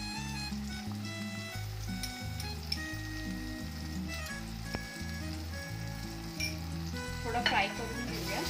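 Ginger garlic paste frying with tomatoes in a pan, a steady close sizzle broken by rhythmic scraping stirs and occasional utensil clicks.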